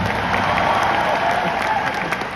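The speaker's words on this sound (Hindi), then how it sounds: "उस पर्सन के लिए भी एक बार ताली बजा दो यार" A seated audience at a success-day event bursts into sustained applause, a dense, even wash of many hands clapping throughout, with faint crowd voices mixed in.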